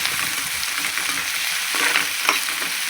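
Tomatoes and onions sauté with rock salt in a pan for sambar, giving a loud, close, continuous sizzle broken by occasional stirring scrapes, with no voices.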